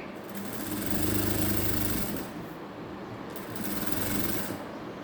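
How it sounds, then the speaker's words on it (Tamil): Sewing machine running a long stitch along one side of organza cloth, a close rhythmic mechanical whirring that swells twice in two bursts with a brief lull between, no voices. "நம்ம ஒரு சைடில் ஒரு தையல் போட்டுக்குவோம் லாங் ஸ்டிச்சாக போடுறேன்"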